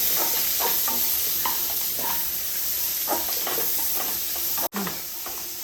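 Two medium onions sautéing in a hot pan for rava biryani, a steady sizzle broken by rhythmic stirring scrapes, close up, with a brief sharp knock near the end.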